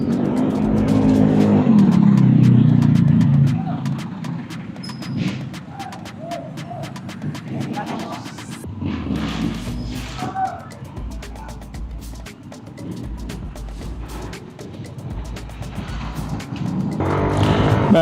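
A freshly serviced Yamaha Aerox 155 ABS scooter accelerates, its engine note rising loud and close at first, then settling into a steady drone with passing traffic noise over the rest of the ride.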